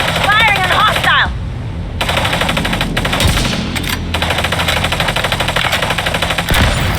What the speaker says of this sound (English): Firing on hostile!